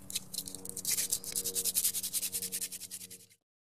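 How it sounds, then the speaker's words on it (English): Rapid, rhythmic rasping of coarse 60-grit sandpaper rubbing back and forth over a carved wooden spoon, steady strokes that stop abruptly at the end. "I got some coarser 60 grit sandpaper."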